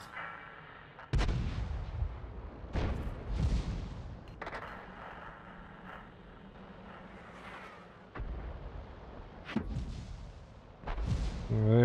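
Heavy tank and artillery shots boom in a World of Tanks match played as the German Hummel, about half a dozen loud blasts with deep rumbling tails spaced irregularly over game engine hum, with no talk.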